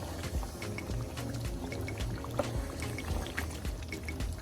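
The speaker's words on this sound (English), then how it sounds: "I'm going to go ahead and add more water" Water poured into a pot of simmering Nigerian stew with chicken and tomatoes, a steady close splashing and bubbling pour lasting a few seconds without any talking.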